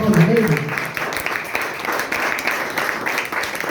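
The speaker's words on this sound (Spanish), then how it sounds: "Den un aplauso al Señor con todo su corazón." A church congregation claps for the Lord in worship, a dense, steady wash of applause filling the whole clip, with voices mixed in.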